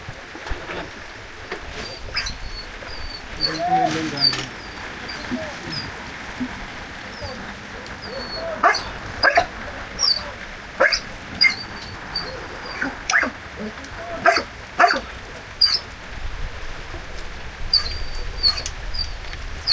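A restless dog near a king cobra's burrow by a roadside in cold weather gives a run of short, evenly spaced barks at moderate distance, over steady outdoor ambience with scattered bird-like chirps.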